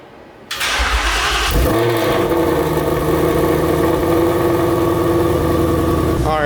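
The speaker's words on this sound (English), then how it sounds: "I'm gonna get in the car and start it." A Ford Mustang S550 engine cranks and fires up after a short quiet moment, then settles into a loud, steady idle with a strong low rumble close to the car.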